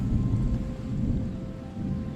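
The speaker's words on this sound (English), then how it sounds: "Oh, you hear the thunder?" Rumbling thunder rolls over steady rainfall in the video game Terra Nil, a deep continuous low roar with rain hiss, no voices.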